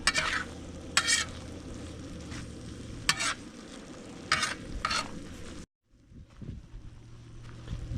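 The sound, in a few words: gnocchi frying in a pan at a campsite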